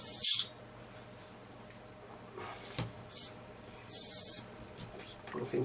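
Iwata Neo airbrush blowing air after a needle replacement, with short hissy bursts of spray, three or four separate puffs over a quiet background.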